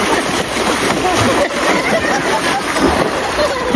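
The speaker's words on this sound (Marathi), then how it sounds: "काय चाललं बघ, ती स्वतःलाच मारतं पाणी." Water splashing in a farmhouse pool during a family outing, a continuous loud churning splash with people's voices faintly mixed in.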